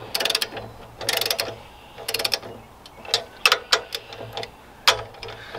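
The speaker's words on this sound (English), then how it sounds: "I will just get them snugged up a little bit here." A ratchet wrench snugs up bolts on a mill, giving quick bursts of sharp clicking pawl strokes up close, repeated several times with brief pauses between.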